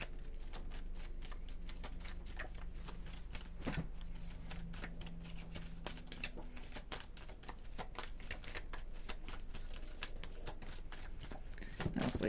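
Laminated tarot cards are shuffled and drawn, making a fast run of crisp slaps and flicks against a low background hum. The card sounds are soft and close, with a few brief louder clacks.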